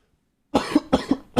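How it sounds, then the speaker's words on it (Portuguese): Three quick, harsh coughs in a row from one person, close and fairly loud, the first after a short silence and the others following in an uneven rhythm. "Agora minha tosse que começou."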